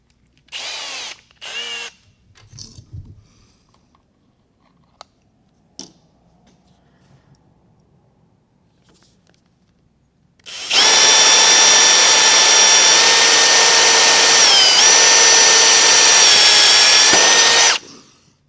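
A drill spins a Cobalt HyperStep step bit into aluminum, giving a steady, loud high-pitched whine for about seven seconds after a few brief clicks and handling knocks.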